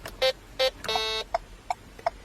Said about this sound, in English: if I press it and hold it for 2 beeps, my left indicator will then be going